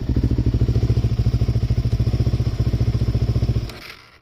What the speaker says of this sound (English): It doesn't want to idle low either, which is interesting, because it's warmed up now.